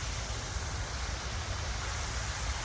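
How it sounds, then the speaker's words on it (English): A waterfall in New York City gives a steady, full rushing roar of falling water, constant and unbroken, heard up close with no voices. "these waterfalls are cool"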